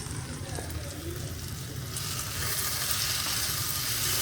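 Spice mixture being stirred and sautéed in a pan, a steady broadband sizzle that grows louder partway through and then holds, continuous and close, with no voices.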